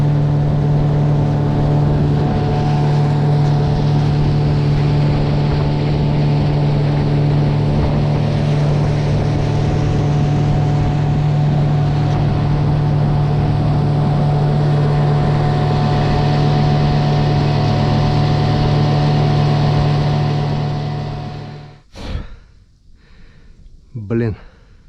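A SHARMAX SM9.9 HS outboard motor drones loud and steady on a boat, a constant close hum with wind rush that cuts off near the end, followed by a few faint bumps.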